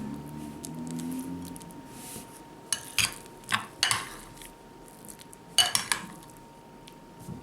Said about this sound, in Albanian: tani lugë do ta marrim dhe do ta vendosim tek pjata që do ta servirim